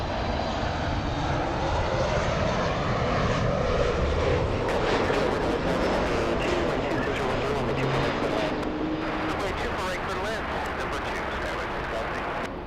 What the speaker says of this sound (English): JetBlue flying in from JFK.